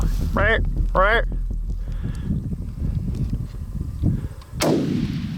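A single loud, sharp rifle shot rings out near the end during an antelope hunt, its crack echoing and fading, after voices and rustling outdoors.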